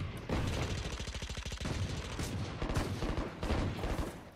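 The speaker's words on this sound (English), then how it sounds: "Suppressing fire." Valorant gunfire on the Lotus map: rapid automatic bursts rattle out loud and close, broken by short pauses, with several overlapping volleys and no talking.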